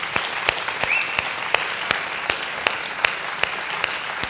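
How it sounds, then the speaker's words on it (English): A ballet audience claps steadily for the dancers, a dense wash of many hands with a few sharper, regular claps standing out, moderately loud and continuous. "Let's give another round of applause to all the dancers."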